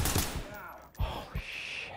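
In the tactical shooter Ready Or Not, an enemy fires a few sharp gunshots in quick succession, loud and close, over a low background.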